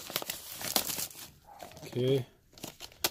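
Plastic wrap being peeled and torn off an Elgato Cam Link 4K box, a busy crinkling and crackling rustle up close, broken by a brief spoken word.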